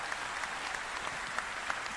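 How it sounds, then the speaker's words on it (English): Quiet, distant applause for the DE team at TennoCon 2023, a crowd clapping steadily with a few sharper claps standing out. "Round of applause for the DE team."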